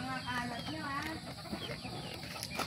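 A white choco gamefowl rooster, about two years old, gives soft clucks and calls nearby, mixed in with someone talking over them.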